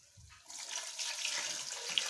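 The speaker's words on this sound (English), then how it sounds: "so I'll be adding water in the pots." Water pours into cooking pots for jollof rice, a soft steady splashing stream starting after a brief pause and continuing to the end, with no talk.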